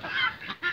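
Cochin bantam rooster and hens clucking in a backyard poultry yard, a few short close clucks and calls in quick succession, alone without talk.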